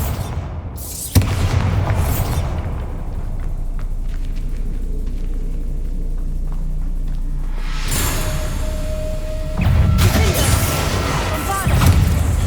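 Bombarda spell explosions in Hogwarts Legacy: a booming blast erupts and leaves a long rumbling tail, then two more heavy crashing impacts follow near the end, loud and close.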